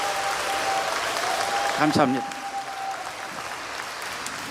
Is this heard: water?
no